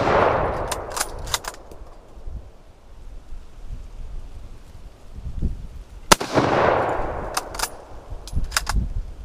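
Two loud Mosin Nagant M44 rifle shots outdoors at a range, each a sharp crack followed by a rolling echo, separated by about six seconds, with wind noise in between.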